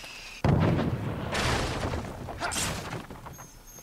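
A bomb goes off at a gate in Disney Infinity's Pirates of the Caribbean world: one sudden loud boom followed by a long rumbling, crackling decay, with no speech over it.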